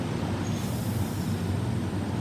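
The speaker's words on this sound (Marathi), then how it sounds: "आणि हे बघा, ही अशी मेट्रो दिसते तिकडची" A metro train in Kuala Lumpur, Malaysia, gives off a continuous low rumbling roar that holds steady and fairly loud, with no voices over it.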